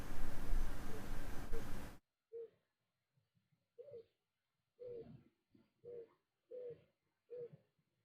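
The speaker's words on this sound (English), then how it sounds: "the dove is standing there cocking its head like" A dove gives soft, low coos in about six short, evenly spaced calls that sound fairly close, following a burst of louder noise at the start.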